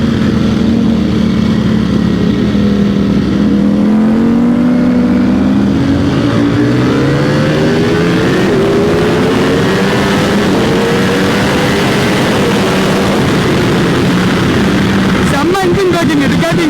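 Motorcycle fitted with a quick shifter engine braking, its engine note sweeping and dropping in steps as it decelerates, loud and continuous throughout with a rider talking over it.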